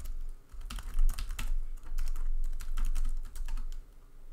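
Keys clatter on a computer keyboard as a short terminal command is typed, a quick uneven burst of close, crisp clicks with brief pauses and no talk.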